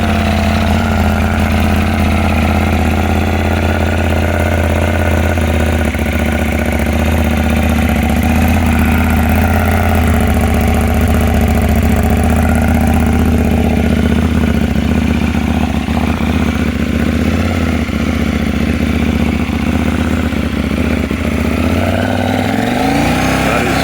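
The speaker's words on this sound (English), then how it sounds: "the bike without the catalytic converter, which is kind of like an interesting sound" A 2022 KTM 890 Duke GP with its catalytic converter removed runs loud and close, a throbbing idle climbing into sustained high revs and holding there before dropping back, with a voice heard faintly underneath.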